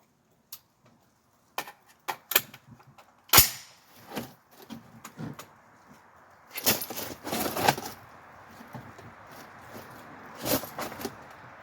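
A Palmetto AR-10 rifle fitted with a Sprinco Orange extra-power buffer spring fires single shots. Sharp, loud cracks stand out among scattered metallic clicks and handling clatter, spaced irregularly, with no speech.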